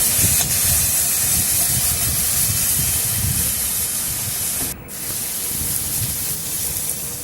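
Vegetables frying in a pan for sago pulao, a loud continuous steamy hiss close by with a brief dip near the end, no one talking.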